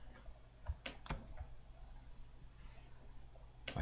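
A few sharp computer keyboard key presses, one standing out as a crisp click, sound close and clear over a low steady hum, with no talking.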